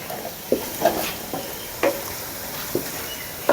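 Potatoes frying in ghee in a home kitchen pan, a soft steady sizzle punctuated by several sharp stirring scrapes and clinks spread through the stretch, with no voices.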